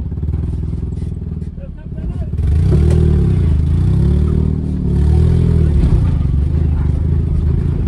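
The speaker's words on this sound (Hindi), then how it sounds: "अब थोड़ी मिसिंग कर रही है गाड़ी यार" An off-road vehicle engine running rough and misfiring, loud and close, with a sputtering, uneven drone that swells into heavier revving under load, mixed with clatter and speech.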